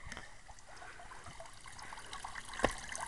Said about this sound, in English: I just wanted to show you like this beautiful water fountain right here.